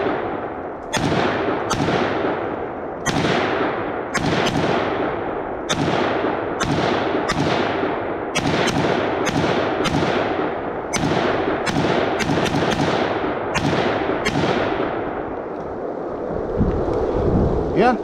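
A preban-style SIG SG-551 carbine fires 5.56 rounds on an outdoor range, a steady string of about eighteen sharp, loud cracks spaced a second or less apart, each trailing a brief echo.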